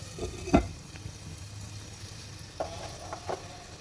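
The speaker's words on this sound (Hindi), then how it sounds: "देखिए भुजिया हमारी अच्छी तरह से भून रही है।" Potato bhujia with spices frying in a covered pan, giving a soft low sizzle broken by a few sharp clinks and stirring knocks, fairly quiet throughout.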